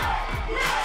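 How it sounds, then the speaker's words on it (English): Crowd at a wrestling show cheering and shouting in a short, loud burst of mixed voices. "A lot of people cheer for this girl."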